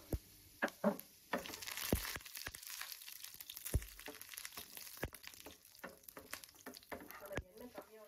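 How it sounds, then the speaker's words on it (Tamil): Mustard seeds and urad dal fry in hot oil for a carrot poriyal, with a steady soft sizzle broken by sharp popping crackles and stirring scrapes, close up and fairly quiet, with a little talk over it. "ஊற்றிட்டு கடுகு போட்டுக்கோங்க. கடுகு பொரிஞ்சாலே கொஞ்சமாக உளுத்தம் பருப்பு"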